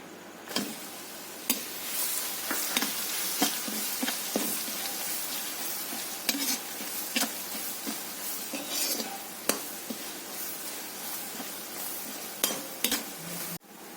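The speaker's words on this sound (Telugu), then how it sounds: "కచ్చా పిచ్చాగా మిక్సీ చేసిన వెల్లుల్లిని వేస్తున్నాను" Coarsely blended garlic fries in hot oil in a pan for a coriander chutney tempering, giving a steady close sizzle broken by sharp metallic clicks and scrapes of a spoon against the pan, with no talking.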